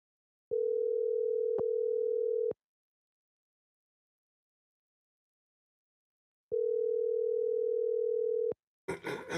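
A steady telephone dial tone plays during setup of a three-way call. It sounds for about two seconds, goes silent, then sounds for another two seconds. A short burst of noise follows right after.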